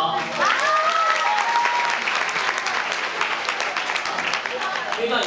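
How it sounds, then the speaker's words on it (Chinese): An audience at an astronomy club event breaks into applause, a dense, steady wash of clapping from many hands that holds at full strength for several seconds. "都请给他一个掌声跟鼓励"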